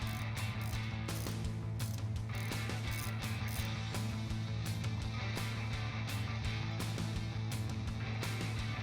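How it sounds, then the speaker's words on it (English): A ratchet turns a 10mm nut on the negative battery terminal of a Jeep Wrangler JK, giving rapid, repeated clicking in short bursts, close and fairly quiet, over a steady low hum with no talking. "Disconnect the negative terminal battery by loosening this 10mm nut."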